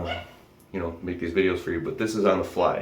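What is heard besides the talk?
dog barking in the background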